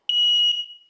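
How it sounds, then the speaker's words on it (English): A carbon monoxide alarm gives one loud, piercing electronic beep, a steady high tone held for about half a second before it decays quickly into silence. "make sure your house has one of these, an audible CO alarm"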